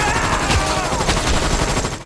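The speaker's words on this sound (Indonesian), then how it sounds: "langsung menembak para warga secara membabi buta" Rapid bursts of gunfire in an action film crackle continuously for about two seconds, loud and close, with dense overlapping shots.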